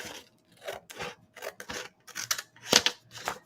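Scissors snip through folded paper for a kirigami cut, about eight crisp, close cuts in an uneven rhythm with brief pauses between them.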